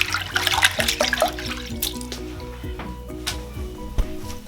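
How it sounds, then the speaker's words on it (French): A curly wig is dipped and moved through shampoo water, giving close sloshing and splashing with a churning wet swirl at the start that settles into softer liquid movement, all without talking. "je plonge ma perruque dans l'eau"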